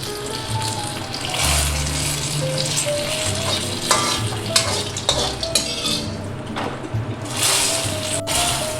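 Hot spiced tempering poured into a pressure cooker of urad dal with prawns bursts into a loud, close sizzle, with ladle scrapes and metal clinks against the pot over several seconds, no talking.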